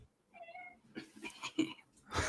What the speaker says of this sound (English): One of my cats is trying to escape.